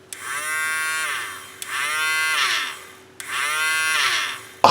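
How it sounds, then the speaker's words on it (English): A small toy motor inside a 1983 Kenner Y-Wing whines in three bursts of about a second and a half, its pitch rising then sagging each time, each burst starting with a sharp switch click. "Let's test the motor out."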